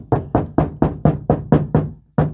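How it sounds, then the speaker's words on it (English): Knuckles rap a wall board in a storeroom to locate a stud: seven quick, evenly spaced hollow knocks, a brief pause, then one more, close and loud, with no speech. "You can sometimes find them by knocking."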